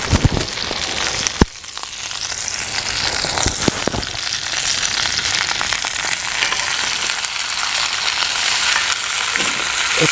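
Trinity vegetables hit a hot cast iron skillet over a campfire, joining garlic for a grilled quail gumbo. A couple of knocks come first, then a loud, steady sizzle rises and holds without a break.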